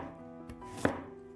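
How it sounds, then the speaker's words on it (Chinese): A knife cuts through a peeled carrot into thin slices, a single crisp chop on a board, close and quiet, with a faint soft tap just before it. "胡萝卜去皮之后切成薄片"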